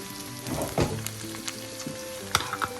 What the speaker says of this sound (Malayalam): നമുക്ക് അരിഞ്ഞു വെച്ചിരിക്കുന്ന പാപ്പടി പയർ ചേർക്കാം.